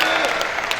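Brief burst of congregational applause in a church service, dense clapping from a crowd, short and fairly loud.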